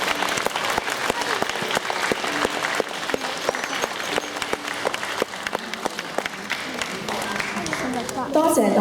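An audience at a primary school graduation ceremony applauds award-winning students: dense, sustained clapping from a large crowd, loud and continuous throughout, with a brief swell near the end.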